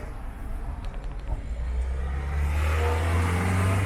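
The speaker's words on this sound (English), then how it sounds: "There's a car behind us." A car follows behind on a road, its steady engine drone and road rumble growing louder and closer toward the end.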